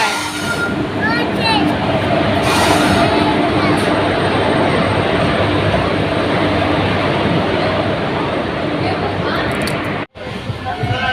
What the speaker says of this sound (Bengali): এই ট্রেন থেকে নামলাম, 10 মিনিট হচ্ছে।